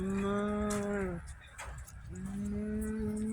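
A person imitates a cow's moo with two long, low, drawn-out calls separated by a short pause, loud and close.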